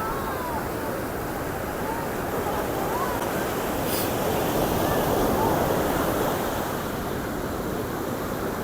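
Ocean surf rolls steadily onto a crowded beach where children play in the waves, a continuous loud wash of breaking water and wind noise without clear individual wave crashes.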